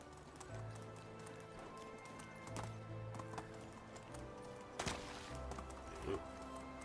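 Horse hooves clip-clopping in Medieval Dynasty, a steady run of muffled in-game footfalls over a low ambient bed, with a few louder knocks along the way.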